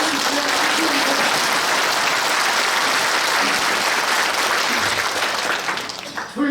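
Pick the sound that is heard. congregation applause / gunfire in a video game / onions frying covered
congregation applause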